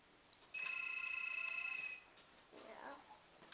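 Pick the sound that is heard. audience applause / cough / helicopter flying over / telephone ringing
telephone ringing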